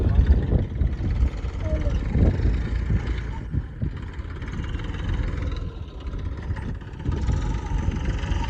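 A tractor engine runs steadily in a farm field with a constant low, rumbling drone, while someone talks over it.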